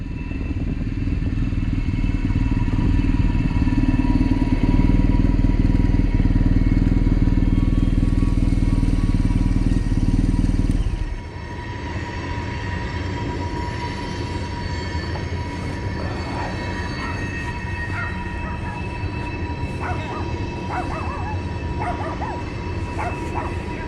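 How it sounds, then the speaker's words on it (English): A heavy freight train rounding a tight bend rumbles loudly and continuously with high metallic squeals and screeching wheels, the deep roar dropping away partway while the grinding continues. "A freight train going by on the nearby track must have been going around a tight bend"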